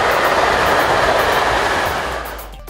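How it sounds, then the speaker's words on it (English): Railway freight cars rolling past a trackside acoustic measuring point, a loud, steady broadband roar with faint rhythmic wheel clatter that slowly fades toward the end. "The Acramos noise module measures the acoustic emission of every individual axle and the noise exposure caused by the train."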